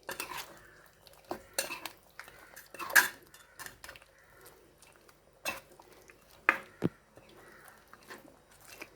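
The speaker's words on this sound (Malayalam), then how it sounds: "ആവശ്യത്തിന് ഉപ്പും ഇട്ട് നന്നായിട്ടൊന്ന് ഇളക്കാം" Chicken curry being stirred in a pot with salt added, a spoon scraping and clinking against the metal in irregular bursts, some sharp taps, with quiet gaps between strokes and no talk.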